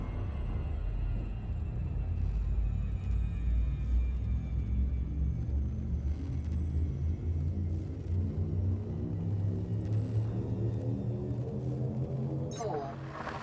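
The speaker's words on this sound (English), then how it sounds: "Frameshift drive charging." Frameshift drive charging in Elite Dangerous Horizons: a steady, deep engine rumble with layered tones slowly climbing in pitch, ending in a sharp burst of noise.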